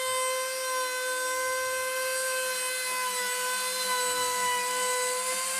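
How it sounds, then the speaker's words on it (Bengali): A router machine carves a decorative design into a wooden door, giving a steady high-pitched motor whine with strong harmonic tones that holds unbroken and fairly loud throughout. "এটি রাউটার মেশিন দিয়ে অতি সহজেই হয়ে যাচ্ছে"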